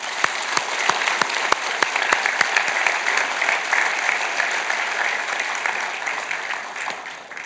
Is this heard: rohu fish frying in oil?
no